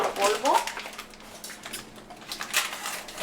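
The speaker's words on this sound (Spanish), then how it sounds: "Le voy a agregar y le voy a seguir meneando." A spoon scrapes and clinks against a pot as gelatin powder is stirred into boiling liquid, a few bright metallic taps and scrapes over a soft bubbling background, close and fairly quiet.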